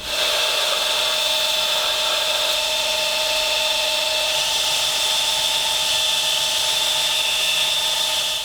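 A belt grinder runs steadily against the steel blade of a handmade folding knife, a continuous high abrasive whine with sustained tonal hiss, close and loud throughout with no pauses.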